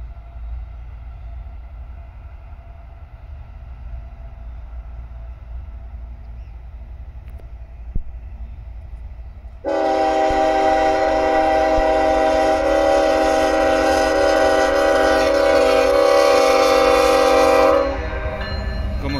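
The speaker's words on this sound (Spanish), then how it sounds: "Ahí viene aplicando su freno dinámico." A damaged locomotive rolls in after a train accident in San Isidro Mazatepec, rumbling low under dynamic braking before a loud, sustained horn blast joins and holds for several seconds, then cuts off.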